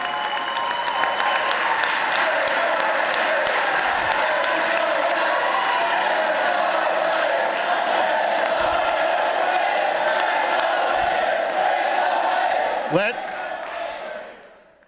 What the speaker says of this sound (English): I just noted that 25 senators stood up to clap for that.